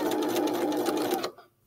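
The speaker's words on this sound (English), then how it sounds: "Go ahead and press on the foot control. I'm going to go forward 3 stitches, and then I'm going to backstitch" A sewing machine stitches fabric forward and then backstitches, a loud, fast whirring burst lasting just over a second before it stops abruptly into near silence.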